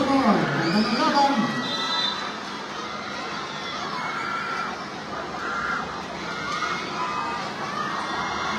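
A crowd yells and cheers at a local basketball game with a one-point margin, a steady dense roar of shouting voices close by, with courtside commentary talking over it throughout.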